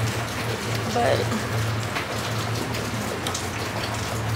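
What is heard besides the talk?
heavy rain falling outside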